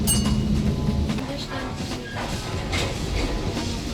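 A Lisbon tram rolls along city tracks with a steady rumble and faint rhythmic clatter, loud and close as from a seat inside, with a brief bright squeal partway through.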